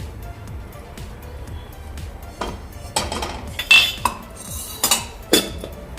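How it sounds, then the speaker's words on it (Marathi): A kadhai set up for tempering and a spoonful of oil added, heard as close metallic clinks and scrapes of a spoon against the pan, scattered irregularly with a few sharper knocks. "कढईमध्ये मी 1 चमचा भरून तेल घालून घेते"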